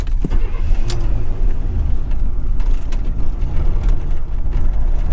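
A cold 45,000-mile 1980 Corvette engine runs roughly after stalling, a low, close rumble broken by scattered mechanical clicks and rattles, with no speech.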